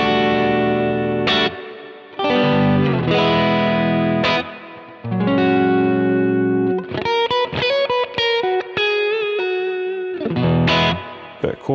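Electric guitar played through a large reverb on a Quad Cortex, loud distorted chords and single notes ringing out with long washy tails, in several phrases separated by short gaps.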